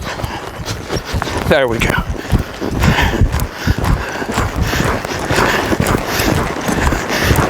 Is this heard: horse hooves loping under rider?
yes